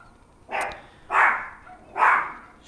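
A dog barks three times in a room, evenly spaced loud barks about three-quarters of a second apart, standing alone over a low background hum.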